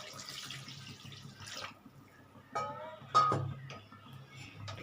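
Water added to a pot of potatoes for boiling: short splashing pours and a clink or two against the metal vessel, close and fairly quiet, in brief separate bursts with no talk.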